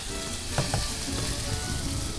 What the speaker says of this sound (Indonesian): ini bumbu halusnya tadi yang sudah dihaluskan langsung dimasukkan ke dalam wajan yang sudah berisi